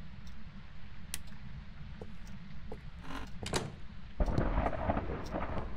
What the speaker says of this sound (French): J'ai été surpris par le tonnerre maintenant